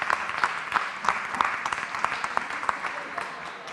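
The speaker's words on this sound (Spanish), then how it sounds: "Fuerte el aplauso para los docentes." Audience applause for teachers at a university science panel on Teachers' Day, steady continuous clapping from a crowd lasting throughout, moderately loud with sharp individual claps standing out.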